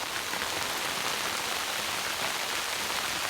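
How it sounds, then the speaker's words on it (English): Sleet falls on an umbrella at a mountain campsite during a snow storm, making a dense, steady patter and hiss of icy pellets close overhead. It runs unbroken and even, with no voices. "It's just all coming in. It's sleet."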